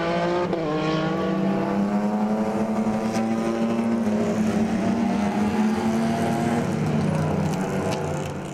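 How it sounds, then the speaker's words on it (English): Race car engines howl loudly on a circuit during a celebrity racing event, a continuous high-revving drone with rising and falling pitch as cars pass, with no speech. "As you can hear the engines howling away."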